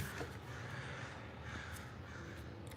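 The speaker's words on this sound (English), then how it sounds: "I'm enjoying the crows, sorry." Crows caw faintly outdoors in a murder of crows, scattered calls over steady background noise, fairly distant and alone without talk.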